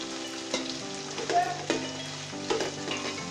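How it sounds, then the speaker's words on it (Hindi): Cabbage and mixed vegetables sautéing over a full flame for veg pulao, a soft, steady sizzle with occasional stirring scrapes and clinks of a spoon against the pan, no voices. "और यह अच्छी तरह से भून लीजिए"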